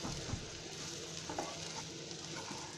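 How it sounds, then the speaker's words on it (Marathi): Dry gram flour being stir-fried in a small pan for spring onion jhunka, a soft continuous sizzle with faint scraping of the stirring utensil, quiet and close. "सुकं ओतून झालं ना की असं ते चांगलं परतायचं"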